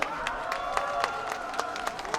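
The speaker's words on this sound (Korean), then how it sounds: "박수 소리가 너무 좋은 것 같은데요. 함성도 좀 질러주시겠어요?" An audience at a choir concert applauds steadily, with many hands clapping in a dense, even patter and sharper individual claps standing out in a regular rhythm.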